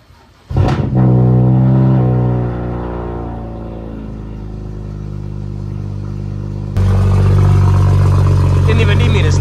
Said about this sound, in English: See if you can start your car, Dad.